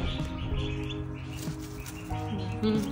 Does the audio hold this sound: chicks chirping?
yes